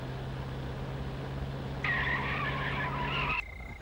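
A car's tires squeal as it skids to a stop, one sharp screech of about a second and a half over a low running engine hum.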